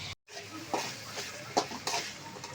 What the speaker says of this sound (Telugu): ఇలా సన్నగా తరుక్కున్న బీరకాయ ముక్కలు వేసి సాల్ట్ వేసి కలబెట్టాలి. అవి వేగేంత వరకు వేగేంత వరకు ఉంచుకోవాలి.